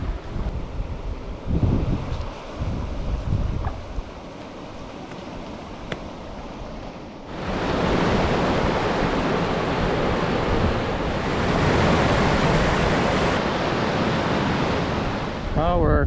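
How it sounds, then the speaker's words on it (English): Rapids or falls on the Haggart River in the Atikaki wilderness, a loud broad roar of rushing water that swells up strongly midway and stays steady, preceded by quieter rustling and handling noise. "Went up to our second set of rapids or falls here on the Haggart River."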